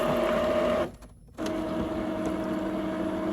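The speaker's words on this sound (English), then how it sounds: "the printer trying to print some" A printer runs with a steady mechanical whir and hum. It stops abruptly for about half a second, then starts again and carries on printing at an even level, with no voices.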